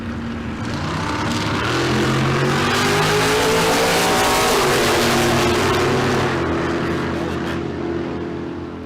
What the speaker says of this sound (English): Is that another Landshark dragster?